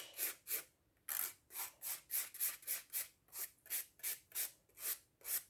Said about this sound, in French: on lime un peu de façon arrondie